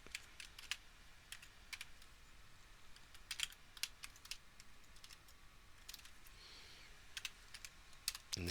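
Quiet, close keystrokes on a computer keyboard as a maths function is entered into GeoGebra, coming in short irregular bursts of clicks separated by brief pauses, with no talking.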